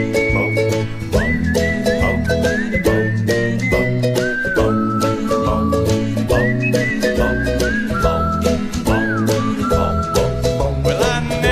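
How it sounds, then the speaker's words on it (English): A man whistles a bluesy melody live on stage, clear and loud, with sliding notes over a steady backing band playing bass, drums and chords. "Give me some whistle."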